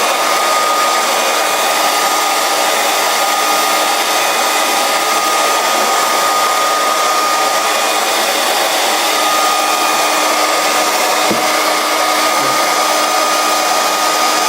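Hair dryer blowing steadily on a handmade wide fashion belt before a top coat is sprayed, a loud continuous whirring hiss held close for the whole stretch, alone with no voices.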